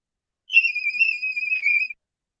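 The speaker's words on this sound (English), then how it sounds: "that's a whistle register." A high, pure singing tone in whistle register is held for about a second and a half, with slight wavering in pitch, and no talk around it.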